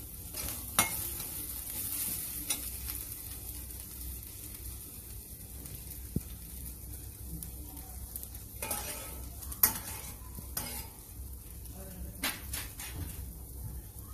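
Asafoetida and a green chilli sizzle softly in hot oil in a kadhai, with curry leaves in the pan, under intermittent spoon scrapes and clinks against the metal pan.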